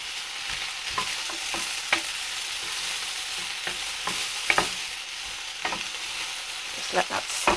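Peppers and onions frying in a pan with smoked paprika, fennel and balsamic vinegar, with a steady moderate sizzle broken by scattered clicks and scrapes of a utensil stirring, no voices.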